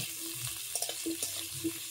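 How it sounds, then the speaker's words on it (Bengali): Cut potatoes with a little salt frying in hot oil in a pan over low heat, giving a soft, steady sizzle with faint bubbling pops and light stirring knocks, with no talk. "আলুটাকে ভালো মতো ভেজে নেব।"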